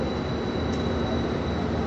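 A steady, dense rumble fills a train station, with a broadband roar and faint tonal hum like a train passing or idling nearby, continuous and fairly loud with no voices.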